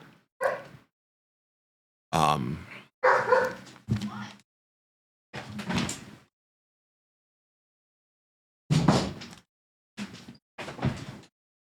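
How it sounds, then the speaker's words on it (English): A dog barks in short, separate bursts with silent gaps between them, fairly close and clear, while a person speaks intermittently. "I can't think with the dog barking in the background"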